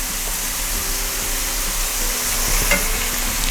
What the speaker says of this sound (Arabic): واحنا بنشوح البصلايه